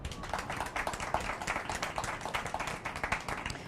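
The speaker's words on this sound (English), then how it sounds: "So give me a round of applause for Brian, Dallas, and Navari." A small networking-event audience claps for panelists, a brief patter of individual hand claps, moderately close and fairly light, with no talk over it.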